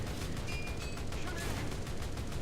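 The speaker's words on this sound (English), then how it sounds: "Using the MG on that one, but not that effective." Tank machine gun firing in the War Thunder video game, a dense crackle of rapid shots layered over a steady rumbling background for a couple of seconds.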